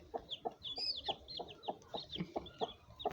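Brahma chickens cluck close by in a quick, regular series of short clucks, about three per second, fairly faint and unaccompanied by talk.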